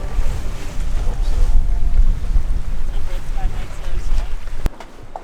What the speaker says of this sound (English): The wind's a bit stronger than what we expected.